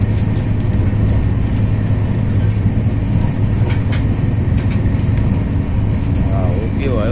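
A passenger train rolls along the rails with a loud, steady rumble and faint rhythmic clicks. A brief voice is heard near the end.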